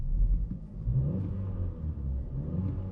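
An Opel Insignia 1.6 turbo petrol engine, 170 hp, revs with a deep, throaty rumble, rising and settling continuously over a few seconds with no talking.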